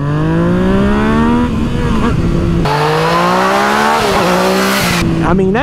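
A motorcycle with traction control switched off revs and accelerates hard, its engine note rising in loud, steady harmonic sweeps that climb, dip at gear changes and climb again, close and continuous throughout.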